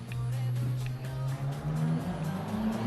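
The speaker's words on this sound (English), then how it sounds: "sweet sounds of cars" Traffic on a street near a holiday stay in Margaret River, with a steady engine hum whose pitch slowly climbs as a car goes by, continuous and fairly close, with no talk.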